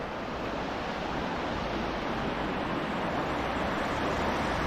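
The River Cree at Newton Stewart runs high past a stone wall, a constant broadband rush of water that is loud and even throughout, with no voices.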